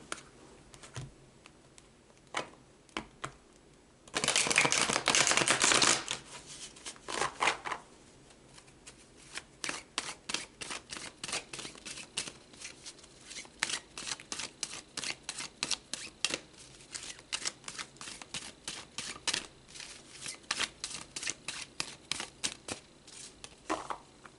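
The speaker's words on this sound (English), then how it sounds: "So let's pull more cards." Tarot cards are riffle-shuffled in a dense burst, then come sharp, rapid flicks and slaps as cards are handled and pulled, close and crisp with no talking.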